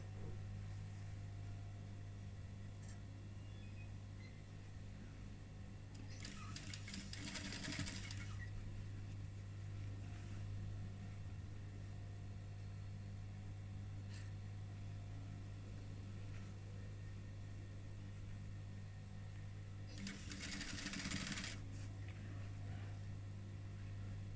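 A sewing machine running through patchwork appliqué pieces, its steady mechanical whir continuing throughout, with two brief louder bursts of faster stitching, close and unaccompanied by speech.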